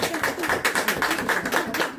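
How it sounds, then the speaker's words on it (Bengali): Audience clapping at a YouTube Silver Play Button celebration for a 100k subscriber milestone, with steady, dense, mid-distance applause from a group sustained throughout. "হাততালি"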